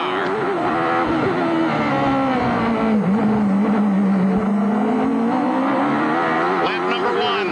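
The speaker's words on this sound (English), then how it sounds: "You're on board the nose of Bobby Rahal's car." Onboard Bobby Rahal's IndyCar on the nose camera at the 1993 CART Detroit Grand Prix: a loud, unbroken close engine scream whose pitch dips and climbs again through a corner, with faint tyre and wind noise underneath.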